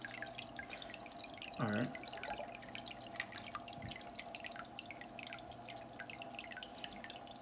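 Water from an aquarium filter pours steadily into a fish tank, a continuous close trickling and splashing that runs throughout, with one brief louder gurgle early on and a short spoken remark over it.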